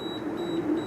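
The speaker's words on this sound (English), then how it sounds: "See, little alarm went off." An Inkbird IBT-4XS grill thermometer alarm sounding through its phone app beside a Weber grill, a steady high electronic beep tone over a constant low hum, close and alone.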